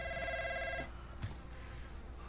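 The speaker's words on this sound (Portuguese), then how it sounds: "Telefone, cara." Telephone ringing in Call of Duty Warzone gameplay, a loud repeating electronic ring that stops about a third of the way through, leaving quiet game ambience with a brief thump.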